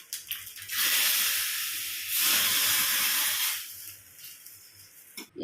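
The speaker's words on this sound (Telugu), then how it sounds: "దీన్ని తీసుకొచ్చి మనం దీంట్లో తిరగమాత పెట్టేసుకోవాలి." Dried red chillies, curry leaves and asafoetida tempered in hot oil sizzle into a coconut and toor dal curry, a loud, broad hiss in two bursts with a short dip between.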